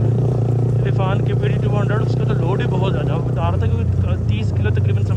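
A motorcycle rides off-road on a rough trail, its engine droning steadily and close beneath someone talking almost the whole time.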